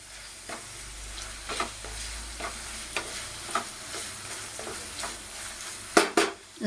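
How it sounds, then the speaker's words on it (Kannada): Crushed garlic frying in a pan, a steady moderate sizzle with occasional stirring scrapes and a couple of louder clatters near the end, close by, no talking. "ಇದು ಒಂದು ಸ್ವಲ್ಪ ಫ್ರೈ ಆಗಲಿ."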